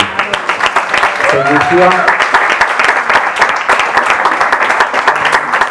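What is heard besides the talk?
audience applause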